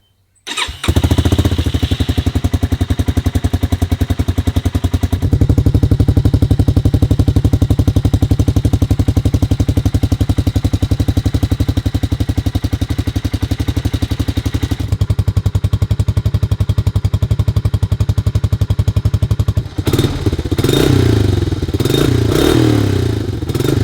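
Barn-find Big Red three-wheeler with a custom header and exhaust fires up after a brief crank, then runs steadily and loudly alone, with a rev-up near the end.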